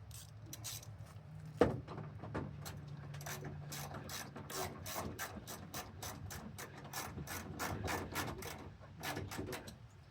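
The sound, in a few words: 10 mm ratchet tightening wheel well liner fasteners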